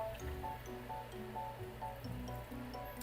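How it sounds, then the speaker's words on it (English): Rice rinse water poured into a pot of kimchi stew, a soft gurgling fill with repeated bubbly pulses at a steady rhythm, quiet and close, with no talking. "add in enough water to just cover everything that you have in there"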